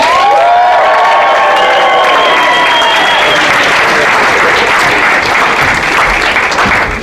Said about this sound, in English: And give them a cheer as they come on in.